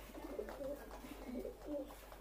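Pakistani pigeons, a running pair, coo softly in repeated low murmurs, faint against quiet background hum.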